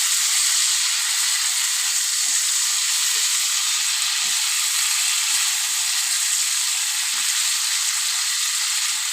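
A splash of water hits potatoes frying with chilli powder in a hot pan, producing a loud, continuous close-up sizzle with faint scraping stirs throughout.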